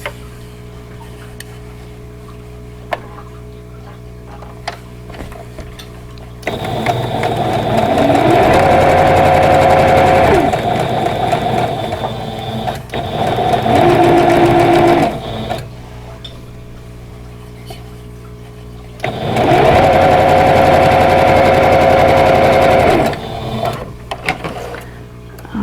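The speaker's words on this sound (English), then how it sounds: "And then we're going to sew them together." A sewing machine stitches quilt block seams together in three distinct runs of steady whirring and needle chatter, loud and close, separated by quieter pauses with light handling noise.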